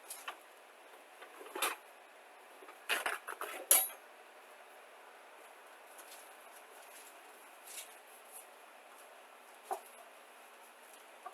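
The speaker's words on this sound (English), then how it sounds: "I'm going to get my frying pan." Metal utensils and a pan clink and clatter in a few scattered bursts, close by and fairly quiet, with pauses of near silence between.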